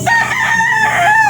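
A hen calls loudly and close by in one sustained, crowing cry with no talking.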